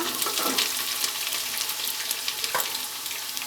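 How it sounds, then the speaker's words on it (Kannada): Cumin seeds and green chilies fry in hot oil in a pan for a millet vegetable upma, giving a continuous bright sizzle and crackle, close and steady, with a brief stirring scrape. "ಈಗ ಜೀರಿಗೆ ಹಾಕ್ಕೊಳ್ಳೋಣ ಹಸಿಮೆಣಸಿನ್ಕಾಯಿ ಈಗ ಒಂದ್ಸಲ ಮಿಕ್ಸ್ ಮಾಡ್ಕೊಳ್ಳೋಣ"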